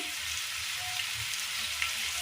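Spices such as coriander, turmeric and chilli powder sizzle in oil in a pan while cooking Kerala-style mezhukkupuratti, a steady soft crackling hiss with faint stirring, no voices.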